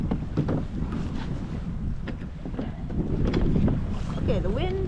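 Wind gusts steadily across open water during winter bass fishing from a kayak, a continuous rushing buffet on the microphone with brief knocks and a faint voice-like tone near the end.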